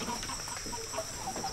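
A chicken clucking during a Dayak Kanayatn ritual cleaning: a few soft, short clucks over a steady background hiss, heard briefly and at moderate distance.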